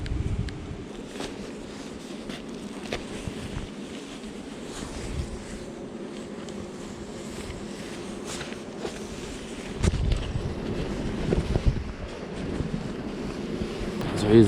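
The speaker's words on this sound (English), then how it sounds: "You can see it's quite tight, but also quite windy today" Wind gusting across an exposed park campsite in Scotland during a bicycle tour, a steady low rushing buffeting the microphone and swelling louder toward the end, with no talk.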